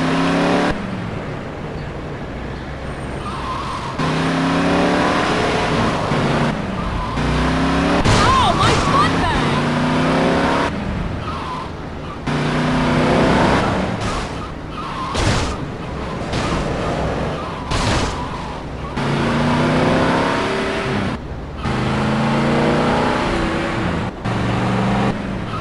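A car driven in the GTA Liberty City Stories video game, its engine droning and revving steadily with brief cuts and thuds, while people talk over it.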